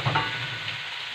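Food sizzles steadily in a frying pan during preparation of a quick, light home meal, a brief close burst of crackling heat with a faint clatter near the start.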